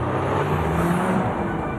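Audi car engine in a radio advertisement, a steady low rumble of the running motor held at an even, loud level throughout, with no talking.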